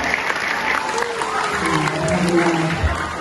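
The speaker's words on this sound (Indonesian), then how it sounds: "kita beri aplaus dan tepuk tangan dulu untuk petugas kita hari ini" Students and guests applaud the day's duty officers at a school Maulid celebration in a Bandar Lampung junior high, clapping steadily in a reverberant hall while a voice and other sounds run beneath.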